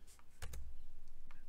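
Keys on a computer keyboard tap out a name in a OneDrive file request form: a few sparse, close, quiet clicks in small clusters over a low steady hum.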